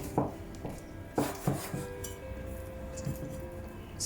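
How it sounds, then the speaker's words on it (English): A kitchen knife slicing raw beef across the grain on a cutting board, sounding as a few separate, sharp knocks and scrapes at an uneven pace, close and fairly quiet. "Cut the beef across the grain."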